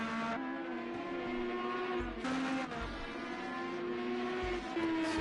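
IndyCar race cars roar around the Le Mans Bugatti circuit in a continuous, shifting engine whine, with pitch drops and surges as cars pass and shift gears.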